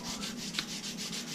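Edges of a bifold are sanded by hand in quick, even back-and-forth strokes, producing a soft, rhythmic scratchy rubbing that is close and fairly quiet.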